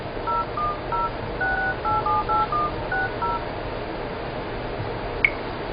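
A phone dials out to place a video call, a quick run of short touch-tone beeps in an uneven rhythm followed by quiet line hiss and a single faint click.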